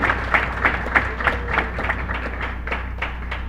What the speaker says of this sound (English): a loud round of applause for yourselves